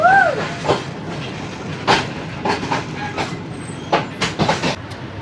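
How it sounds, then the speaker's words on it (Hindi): Shalimar Express passenger train running on rails near Karachi, loud steady rumble with repeated clacking wheel beats and an early brief squeal. "ट्रेन दौड़ लगा रही है बोचेरी और दौड़ रेलवे स्टेशन के दरमियान में"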